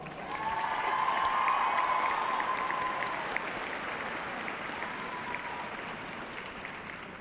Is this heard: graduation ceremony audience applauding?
yes